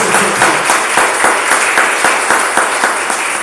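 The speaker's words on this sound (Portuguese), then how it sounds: "Aplauda o Senhor com alegria." A church congregation applauding during a Portuguese-language worship service: steady, dense clapping from a crowd, with a loose rhythmic pulse running through it, loud and continuous throughout.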